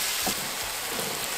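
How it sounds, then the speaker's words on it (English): Garlic, tomato and onions sauté in olive oil for Mexican meatball soup (caldo de albóndigas), giving a steady, close hiss of frying with soft crackles throughout and no talking. "Next, you're gonna add your garlic, tomato, and onions, and you're gonna saute until everything's nice and soft."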